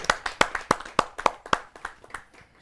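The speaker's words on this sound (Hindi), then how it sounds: "आइए जोरदार तालियों से स्वागत करें" A handful of distinct, fairly close handclaps in an uneven rhythm at a Hindi poetry gathering, welcoming poet Ankita Mishra, starting strong then thinning and softening into scattered claps by the end.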